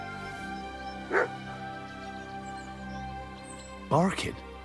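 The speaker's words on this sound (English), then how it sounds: "Barking." A dog in Kingdom Come: Deliverance II barks twice, a couple of seconds apart, each bark short and fairly distinct over steady game music and ambience.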